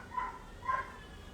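A neighbourhood dog barks twice outdoors on a summer block, short muffled woofs spaced about half a second apart, distant and faint over steady background hiss.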